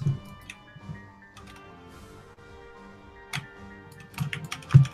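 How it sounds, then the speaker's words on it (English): A computer keyboard is pounded hard during a podcast, with irregular sharp clacks and a dense burst of loud keystrokes near the end, close and over a quiet background. "Who's fucking just pounding that keyboard?"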